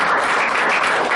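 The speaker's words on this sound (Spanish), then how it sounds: "Denle una ofrenda de aplauso al Señor" A church congregation applauds during a Spanish-language worship service, a dense, steady wash of many hands clapping at once that holds at an even loudness throughout, with no talk over it.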